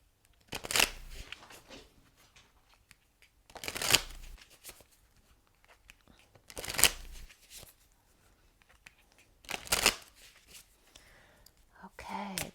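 Fortune Oracle cards are shuffled in four separate close riffles spaced a few seconds apart, with soft handling and faint breathing in the quiet gaps.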